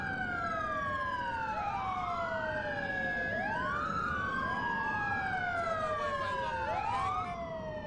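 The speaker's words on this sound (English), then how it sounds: "All right, we're going to kill our sirens here." A police car siren in the LCPDFR game wails in repeated rising and falling sweeps, loud and continuous, with overlapping siren tones layered over a low road rumble.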